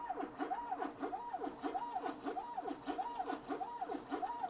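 A 3D printer extrudes plastic at roughly 150 mm per second. Stepper motors whine in a regular, repeating rising and falling pattern, quiet and close, with faint ticks and no talking.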